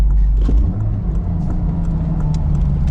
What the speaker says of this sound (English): I'm gonna go from fourth gear to second gear.